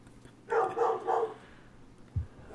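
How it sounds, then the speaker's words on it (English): A dog barks indoors in three quick, fairly close barks in a row, then gives a short low huff after a pause, with no talking over it. "sorry for the barking"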